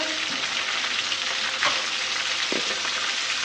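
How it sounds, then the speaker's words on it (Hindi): Onions frying in a pan as ginger-garlic paste goes in for a lentil dish, a steady close sizzle with a few sharper spattering pops. "साथ ही अदरक लहसुन का पेस्ट, थोड़ी सी छींटे उड़ेंगी, ज़रा एहतियात कीजिएगा"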